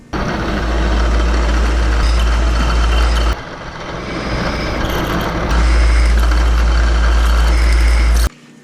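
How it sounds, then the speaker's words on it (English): Power drill boring four holes through a bicycle crank arm, a loud, steady motor whine in long bursts with a short pause between them, close up and alone. "So let's put 4 holes in this."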